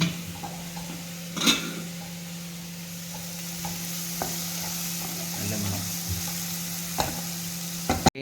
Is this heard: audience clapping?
no